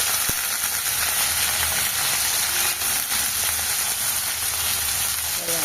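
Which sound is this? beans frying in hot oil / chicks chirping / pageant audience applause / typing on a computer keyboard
beans frying in hot oil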